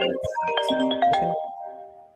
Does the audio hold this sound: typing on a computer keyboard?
no